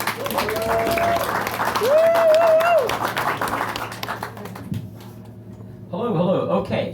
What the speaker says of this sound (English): do one round of applause for Andrew Ferenbach.